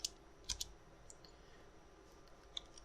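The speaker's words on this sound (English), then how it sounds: "I'll just type in 600." A few sharp computer-keyboard key presses entering a number, close and quiet: a short double tap, then a couple of isolated clicks.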